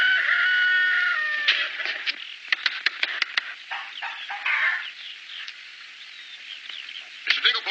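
Hens cluck and squawk in a farmyard, with an early crowing-like call followed by scattered sharp clucks and chatter, fairly close and moderately loud.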